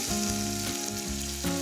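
Chopped onion drops into hot olive oil in a pot for risotto, giving a loud, continuous close sizzle with a couple of brief surges as it settles, no talking.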